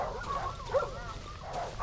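Dogs in the horror game Darkwood give a short burst of yipping, whimpering barks, faint and somewhat distant over a low ambient drone, with no speech.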